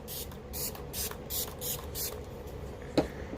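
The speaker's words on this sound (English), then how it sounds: "I'm going to go in with my Gerard Cosmetics Slay All Day Setting Spray and just kind of melt this all together" Gerard Cosmetics Slay All Day setting spray in Watermelon scent misted onto a face: five quick, close pump-spray hisses in a steady rhythm, followed by a single soft tap.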